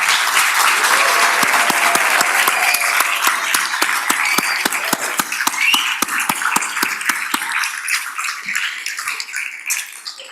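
A city commission meeting audience applauds a spelling bee winner with loud, dense clapping and some sharper individual claps, sustained for several seconds before gradually thinning out toward the end.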